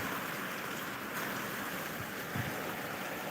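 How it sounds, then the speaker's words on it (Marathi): Rainwater rushing along after heavy overnight rain, a continuous broadband wash of flowing water that stays steady and fairly loud throughout, with no voices. "किती पाणी वाहत आहे रात्रीपासून पाऊस चालू आहे"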